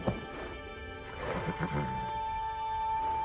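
A horse in Ghost of Tsushima gives a neigh at the start, then a soft whinnying and clip-clopping follow against a sustained tonal game background, fairly quiet and close.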